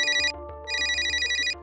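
A telephone rings with two electronic bursts separated by a short gap. The tone is bright, warbling and steady, and it is heard clearly on its own with no talking.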